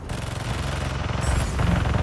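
Rapid automatic turret gunfire in Marvel's Spider-Man 2, a fast continuous rattle of shots that grows louder toward the end, up close and with no voices over it.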